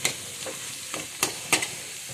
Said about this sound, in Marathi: थोड्या पुऱ्या करून घेते